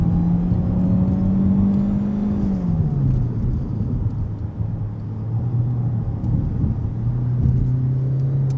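Kia K4 car driving through corners, a steady in-cabin engine hum and road rumble whose pitch drops and then climbs again as the car slows and accelerates.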